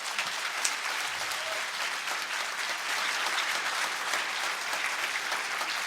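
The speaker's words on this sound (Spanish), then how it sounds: "Ese aplauso más grande para el Señor." An audience at a theological debate on the Eucharist gives sustained applause, steady even clapping heard from a moderate distance for the whole stretch, with no talk over it.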